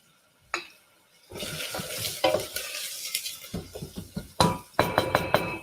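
Onions softening in a hot pan while making a chicken Thai green curry, a steady close sizzle broken by stirring scrapes and a few sharper clatters, no talking.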